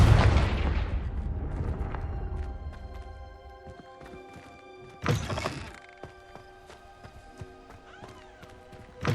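A Confringo fire spell bursts in Hogwarts Legacy with a loud, booming blast, then settles into a quieter rumble broken by a second sharp burst midway and a thump at the end.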